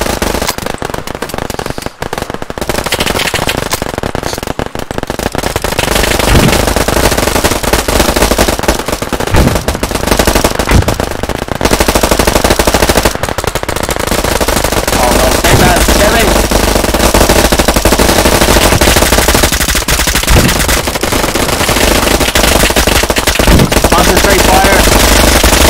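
Sustained automatic gunfire in the Operation Harsh Doorstop video game, dense overlapping bursts and rattling shots running loud and continuous through the whole stretch, with shouted voices mixed in.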